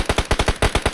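Automatic gunfire in the mobile battle-royale game PUBG Mobile: a loud, close burst of rapid, evenly spaced shots, about nine in one second, with no voices.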